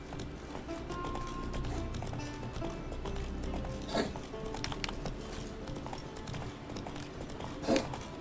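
Hoofbeats of Roach, the horse in Witcher 3, trotting in a steady rhythmic clip-clop at moderate volume, with a couple of louder thuds and faint background sounds.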